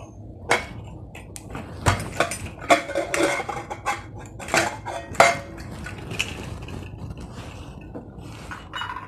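Metal pot and lid clatter and clink in a kitchen as a pressure cooker holding cooked yam and raw bananas is opened, with a series of sharp knocks and scrapes spread unevenly, fairly close and alone.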